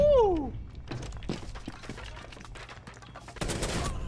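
Gunfire in the video game Rainbow Six Siege: a quick series of sharp shots spread across the clip, with a louder burst near the end over faint background sound.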